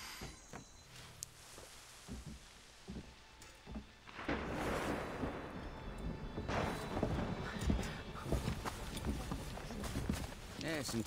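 A horse gallops through mud and water in Assassin's Creed III, with rapid hoofbeats and wet splashing that start quieter and then swell louder and denser, while people talk over it.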